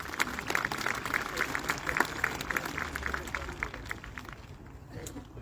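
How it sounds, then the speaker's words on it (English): An audience claps at a 2021 high school graduation ceremony, a dense crowd applause that fades out toward the end. "Let's give them a round of applause."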